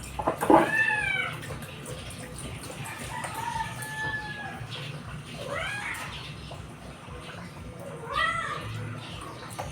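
A cat meows at a kitchen sink: three drawn-out, rising-and-falling meows spaced a few seconds apart, fairly close and clear over a low household background hum, with no talking.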